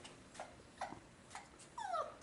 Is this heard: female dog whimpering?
yes